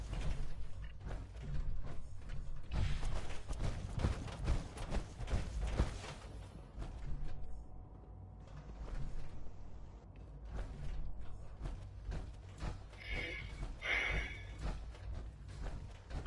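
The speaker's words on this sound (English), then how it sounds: "Just need to tighten up this primary drive servo." A primary drive servo being tightened in Fallout 4 gives off a long run of mechanical creaks, ratcheting clicks and metallic clanks, close and busy, easing briefly before resuming with a higher grinding whir.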